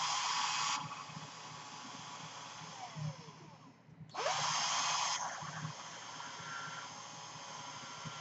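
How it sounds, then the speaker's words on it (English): Cordless drill spinning to sand a floating pin for a vape mod, a steady high whine that winds down, pauses briefly, then spins up again, close and fairly loud. "Okay, I'm going to turn this drill on the other way."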